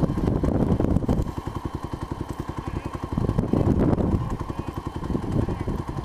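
A dirt bike engine running in gear on a road, a close, loud pulsing putter with rapid rhythmic firing beats that surges and eases as the throttle changes, with a voice talking over it.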